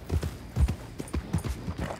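A horse's hooves clip-clop in Red Dead Redemption 2 at a quick, even gait, each step a close, crisp thud over a short stretch.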